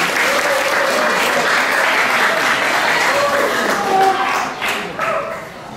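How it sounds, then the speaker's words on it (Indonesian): An audience at a school talk breaks into sustained applause, dense clapping filling the room before it gradually thins out toward the end. "Mari kita berikan tepuk tangan sekali lagi pada pemateri kita pada hari ini"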